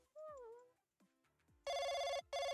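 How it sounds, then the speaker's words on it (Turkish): A telephone rings in the Delivery Impossible video game: two loud, bright electronic ring bursts with a short gap between them, following quieter chirpy game sound effects. "Telefon çalıyor."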